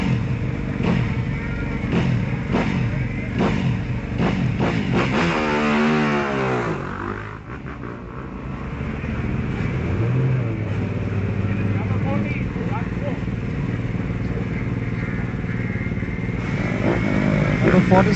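CBR 250 class racing motorcycles roar loudly up a hill climb course, engines revving and shifting continuously over about eighteen seconds, with an announcer talking over the noise.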